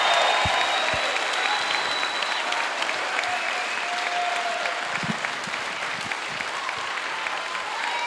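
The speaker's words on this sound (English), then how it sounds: "one massive applause for the United States military" A conference audience at a conservative political event breaks into sustained, dense applause lasting several seconds. Loud crowd clapping fills the room with scattered cheers mixed in.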